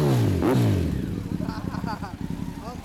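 A 2001 Honda Blackbird motorcycle fitted with a Devil muffler revs its exhaust once up and back down, then idles with a rough low burble while people talk over it.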